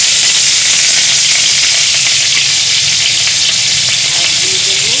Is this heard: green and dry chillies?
yes